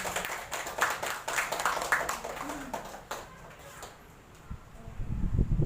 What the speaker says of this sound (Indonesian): kita beri dulu tepuk tangan untuk Ibu Mila